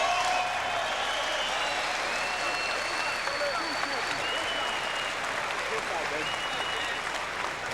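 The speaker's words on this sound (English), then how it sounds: "let's have a nice round of applause for both of these fighters." Crowd applause for two boxers at the end of a professional bout, steady dense clapping and cheering from a large arena audience, with whistles and voices rising over it.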